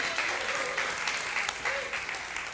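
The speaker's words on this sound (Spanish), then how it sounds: "Vamos a dar un fuerte aplauso." A church congregation at a Spanish-language service breaks into applause, a short, full round of clapping that swells and dips, with a few voices mixed in.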